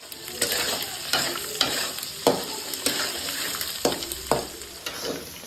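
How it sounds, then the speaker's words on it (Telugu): Meal maker soya chunks fry in a pan for chicken noodles, with a steady sizzle broken by regular scraping strokes of a spoon, close and with no talk. "మిల్ మేకర్ వేసాం కదండి, కొంచెం సేపు ఫ్రై అవ్వాలి."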